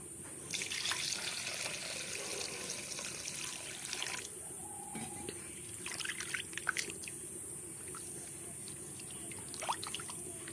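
Tap water runs and splashes into a cooking pot for mustard hilsa, a steady close rush with a few brief drips and breaks as the flow shifts.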